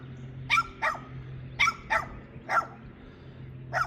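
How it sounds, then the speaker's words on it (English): A dog in a residential neighborhood barking in short bursts, about six sharp barks in pairs and singles, fairly distant and faint over a low background hum, with no talk. "It's the dog though."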